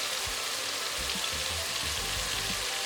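Tomatoes and onion fry in a pan for moong masoor daal, giving a steady, close sizzle with soft crackles and a faint scrape of stirring.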